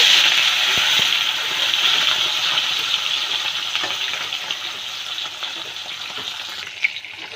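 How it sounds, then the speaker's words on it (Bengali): Fish sizzle and crackle loudly in hot oil, a steady bright hiss throughout with occasional pops. "এখন আমি মাছগুলি ভেজে নেব।"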